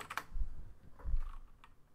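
Keys clatter on a computer keyboard as a Linux terminal command is entered, a quick burst of close clicks then a second cluster of taps, with no voice over them.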